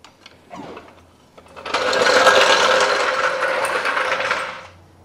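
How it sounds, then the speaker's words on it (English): A car jack being lowered and pulled away during a 1.8L Chevrolet Cruze water pump replacement, heard as a loud, sustained mechanical ratcheting and scraping clatter lasting a few seconds after some quieter handling noises. "Now we can take the jack away."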